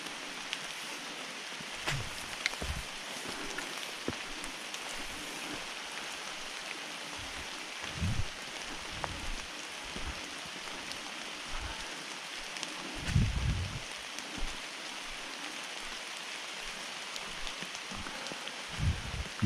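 Steady rain hisses through the trees along the Black Lake Trail on a wet hike, with scattered drops and soft footfalls on the muddy path. The patter stays even and fairly close throughout, and nobody speaks.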